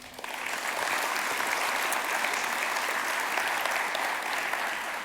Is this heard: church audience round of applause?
yes